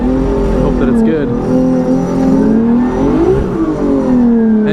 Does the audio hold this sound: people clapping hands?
no